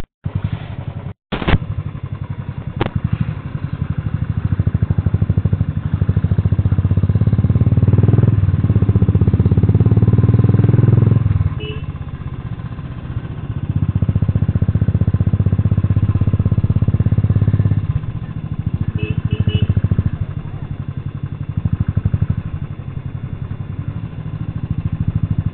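Motorcycles pass one after another on the hill road to Kodaikanal, their engines droning loud and close in long surges, with brief thumps and clatter between them.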